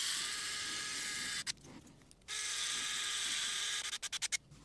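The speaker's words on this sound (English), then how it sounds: "And then we can put in our 2 guide screws." Screws driven into a 3D printed adapter by a small power driver, a steady high whirring that runs twice for about a second each, with short rapid bursts at the end, fairly quiet and without talk.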